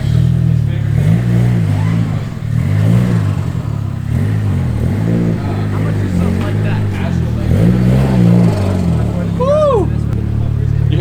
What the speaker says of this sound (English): You hear that flutter?